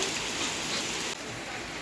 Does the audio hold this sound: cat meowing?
no